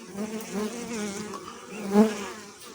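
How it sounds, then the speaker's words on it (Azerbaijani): Honey bees buzzing at the hive entrance, a continuous close droning hum that swells briefly near the end, carrying pollen after several rainy days in late September. "baxın, arılar necə çiçək tozu daşıyır"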